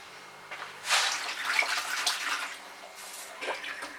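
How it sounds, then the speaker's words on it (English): Water is poured out of a tub used for dyeing fabric, an irregular splashing and gushing in close, uneven bursts. "Empty that water out."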